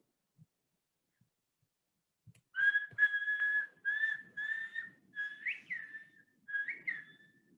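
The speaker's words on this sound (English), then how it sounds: "So I'd like you to hear an example of these 4 whistled consonants, so the aka, appa, assa, atta" Whistled speech renders the consonants aka, appa, assa and atta as a series of clear, pure whistled tones. Each bends in pitch at the start and end of its consonant, with short pauses between them. The whistles come after a near-silent opening.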